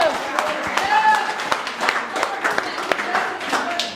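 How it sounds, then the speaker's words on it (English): A group of people claps together in a short burst, the brisk clapping running steadily under loud overlapping voices and cheering at a confidence-building activity. "Everybody clap."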